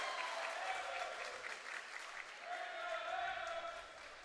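A solid crowd of high school volleyball fans in a gym claps and cheers in a sustained wash of applause, dipping briefly in the middle before swelling again, with voices mixed into the noise.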